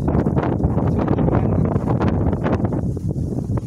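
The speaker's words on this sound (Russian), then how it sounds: "Да, ветер, ветер." Strong wind blowing and buffeting the microphone at Lake Pizma, a loud continuous rumble with gusty surges throughout.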